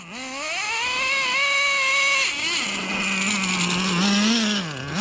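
Traxxas Slayer nitro RC truck engine running with a high, buzzing whine that rises and falls in pitch as it revs, loud and close, with no talk over it.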